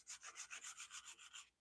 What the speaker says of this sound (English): Now, what am I doing? I'm sanding.